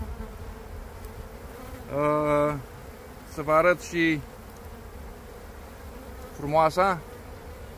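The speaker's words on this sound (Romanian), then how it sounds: "vedeți albinele cu polen" Honey bees, including pollen-laden foragers, buzz in a steady low hum at an open beehive being prepared for winter, heard under a man's intermittent speech.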